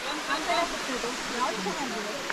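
A low-flow waterfall on the Kodachadri trek in Karnataka's Western Ghats, steady hissing rush of falling water nearby, with people talking over it.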